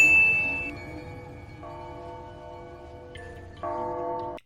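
Clear ringing bell tones in the Girls' Frontline video game, a few sustained dings that change pitch in steps and cut off abruptly at the end, alone with no talk.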